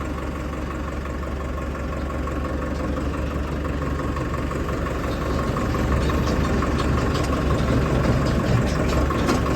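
A tractor engine idles steadily and close by, a continuous low rumble that grows slightly louder in the last few seconds, with no talk over it.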